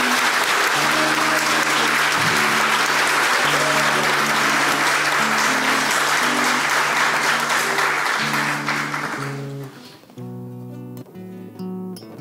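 Sustained, dense applause fills a municipal council chamber during a session honouring a mother, with music playing underneath; the clapping thins out after about nine seconds and leaves the music alone.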